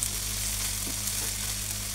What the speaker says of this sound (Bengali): জিরাটা একটু ভাজা হচ্ছে, ভাজতে একটু সময় লাগছে।